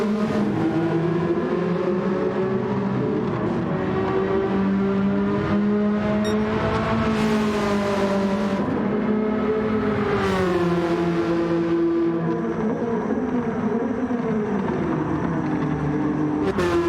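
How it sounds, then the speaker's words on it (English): Race cars at Laguna Seca during an RXGT Sprint Series final, engines howling and revving with rising and falling pitch as they downshift into a corner, loud and echoing, no talk. "Loud engines, these cars here, you can hear the echo as they downshift into the corner."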